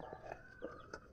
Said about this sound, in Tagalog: may mga alaga rin akong manok